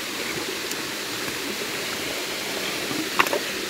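Floodwater rushes over stones in a steady, broad wash, with a few small splashes and knocks near the end and no speech.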